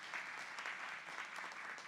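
A crowd claps steadily at a Democratic primary candidate forum held by the NAACP Arlington Branch, a brief run of even, moderately distant applause with no talking.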